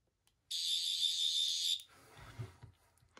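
A 10th Doctor sonic screwdriver prop replica for the series 4 era gives a loud, high electronic whine lasting just over a second, followed by fainter rustling handling noise.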